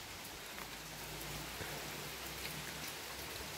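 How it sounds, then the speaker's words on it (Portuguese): A rain shower pouring down steadily, a dense, even hiss of falling drops with no voices, fairly faint and constant throughout. "Já veio outro pé d'água."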